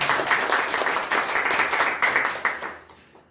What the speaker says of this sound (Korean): 하나님께 영광의 박수를 올려드리도록 하겠습니다